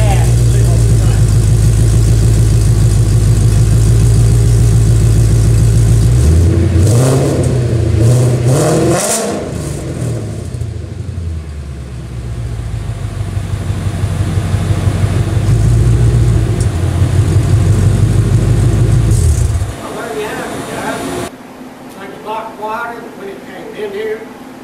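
A 2011 Ford Mustang GT 5.0 with a reworked exhaust idles with a deep, loud rumble, gets blipped into a couple of rising revs, settles back to idle, then cuts off near the end, with someone talking faintly.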